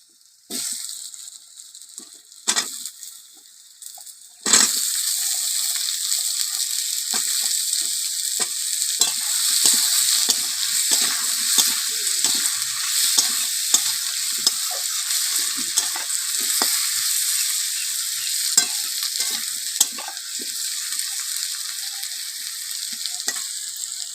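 Potatoes frying with onions in a pan for a fish-head and pui greens chorchori, a steady loud sizzle from about five seconds on, with clinks of stirring; quieter scraping before that.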